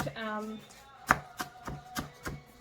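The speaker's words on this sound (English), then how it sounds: "I have taken some cilantro here that we'll finally chop" A knife chops cilantro on a board in a series of crisp, evenly spaced strikes, heard close, with a brief voice at the start before the chopping.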